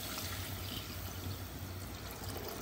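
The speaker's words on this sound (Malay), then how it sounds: "Lepas tu kita masukkan air guys." Water poured into sautéed curry paste for ambal curry, a continuous soft pouring and trickling wash with a low bubbling undertone, faint and steady throughout.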